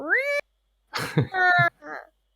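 A rising, meow-like cry sounds up close, followed by coughing and voice sounds that may be a person imitating a cat during a tabletop role-playing game session.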